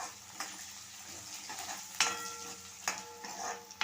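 Chopped onion and green chillies sizzle steadily in a hot pan while cooking upma, with occasional louder scrapes and clinks of a spoon stirring against the metal, close and without talk.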